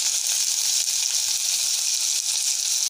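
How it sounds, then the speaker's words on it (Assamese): Chopped onions sizzle loudly in a pan as they are stirred, a dense, continuous close-up frying hiss that cuts off abruptly at the end. "কাটি থোৱা পিঁয়াজখিনি দি দিছোঁ আৰু এতিয়া মই ভালকৈ লৰাই দিম।"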